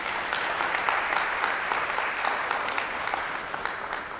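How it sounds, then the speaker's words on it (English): Audience at a corporate meeting applauding the team: dense, steady clapping from a sizable crowd in an indoor room, holding at an even level for several seconds with no talking. "a round of applause for our team"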